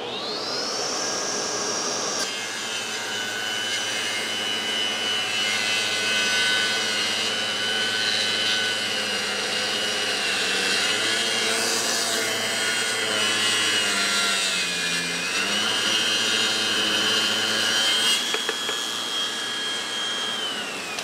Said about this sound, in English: So the first cut I'm going to be doing is just a simple rip cut